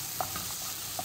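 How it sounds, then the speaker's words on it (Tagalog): Shrimp and browned garlic stirred in a pan for prawn pasta: a soft continuous sizzle with a few light scraping strokes of the utensil, brief and fairly quiet, no voices. "lagyan na natin ang shrimp kasi brown ang garlic. Ayan, haluin natin."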